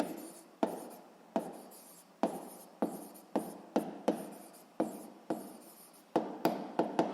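Pen or chalk writing physics notes, heard as quiet, close taps and strokes in an irregular rhythm, with no talk.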